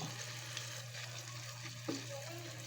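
Food fries steadily in a pan, a soft continuous sizzle with a faint low hum beneath and one brief clink of stirring, heard alone without talking.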